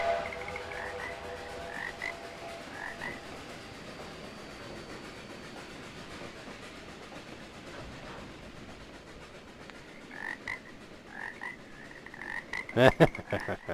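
Frogs croak in a dense, steady chorus at the Eagle River setting of the Trainz 2022 train simulator, with faint train rumble underneath and a louder clatter of clicks near the end.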